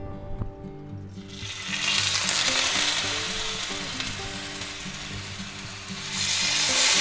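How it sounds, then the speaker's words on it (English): Seasoned sous vide pork chops go into a smoking hot pan with a brief clatter, then a loud, close, continuous sizzle that holds steady and swells toward the end. "we're going to take our really nice seasoned sous vide pork chops, and we're going to put them right in there"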